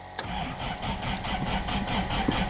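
A Toyota 4x4 pickup's 22R engine cranks with a sharp click and then chugs through a rhythmic run of starter pulses, close and moderately loud, the beats holding steady across a couple of seconds.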